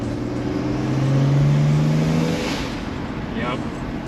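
A turbocharged BMW 335 accelerates hard from inside the cabin, engine droning loud and steady as a rising whine builds over a couple of seconds, with a brief voice over it.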